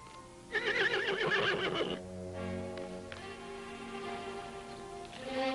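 A loud horse whinny rings out with a shaky, descending neigh for over a second, then quieter ambient noise and faint tones follow.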